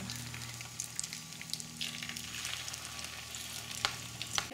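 An egg omelette fries in hot olive oil, a close, steady crackling sizzle with scattered bright pops and light stirring, heard alone with no talk.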